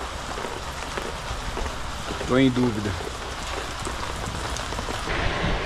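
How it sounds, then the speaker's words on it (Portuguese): Heavy rain falls in a steady, close hiss on a long walking trip toward Brasília, with someone speaking briefly partway through. "Não sei se realmente vai parar essa chuva."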